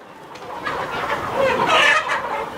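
Nearby hens cluck and murmur in short, uneven bursts on a farm where laying birds are fed for deep yellow yolks, the calls building slightly louder toward the middle with no one speaking.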